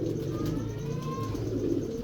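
Jonsiry pigeons from Sialkot coo steadily and close by, a low, soft, throaty murmur that carries on without a break and has no talking over it.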